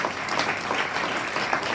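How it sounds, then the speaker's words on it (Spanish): Church congregation applauding together, a steady dense wash of many hands clapping at moderate loudness, with no voices rising above it. "Dele un aplauso a mi Rey y mi Señor"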